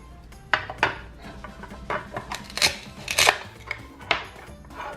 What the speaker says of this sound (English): We get a cutting board and a knife to cut the fruit.